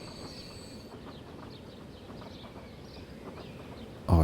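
A steam train in the Transport Fever game runs along the track with rhythmic chuffing and rail clatter at moderate distance, steady throughout, ending in a sudden loud burst.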